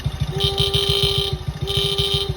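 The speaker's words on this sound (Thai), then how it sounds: "แล้วมาฟังเสียงแตรนะครับ" A motorcycle horn honks in short repeated bursts over the motorcycle's steady idling engine rumble, loud and close, with a brief pause before honking resumes.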